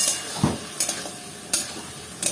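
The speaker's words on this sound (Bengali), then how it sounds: "বড়িগুলো দিয়ে একেবারে ভালো করে নাড়াচাড়া করে নিচ্ছে" Bori, sun-dried lentil dumplings, are stirred with ground cumin, coriander, turmeric, chili and salt in an oily pan, giving a soft sizzle beneath a few sharp, irregular scrapes and knocks of a spatula.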